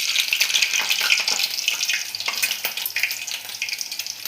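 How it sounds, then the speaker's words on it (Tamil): A single potato slice drops into hot cooking oil and sizzles, a bright crackling hiss with irregular spitting pops that runs steadily for a few seconds at close range. "நம்ம எண்ணெய் வந்து வெந்துருச்சா இல்லையா காஞ்சிருச்சா இல்லையான்னு செக் பண்ணதுக்காக ஒரே ஒரு பொட்டேட்டோ போட்டுக்கலாம்"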